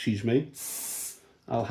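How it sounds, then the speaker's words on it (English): A brief hiss of aerosol spray glue onto interplane struts lasting about half a second, with a voice talking just before and after. "I'm going to spray the actual struts themselves"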